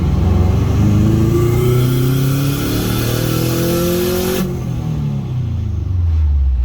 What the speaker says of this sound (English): right now we're just doing some dyno runs to see how much it makes